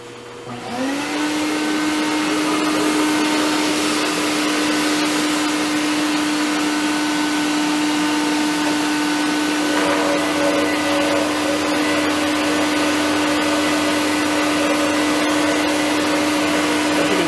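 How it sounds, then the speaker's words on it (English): A shop vacuum switches on and runs at a loud, steady whine for the whole stretch, collecting rust dust, with no voices over it. "I'm going to run the vacuum since we got all this rust here to catch most of the dust"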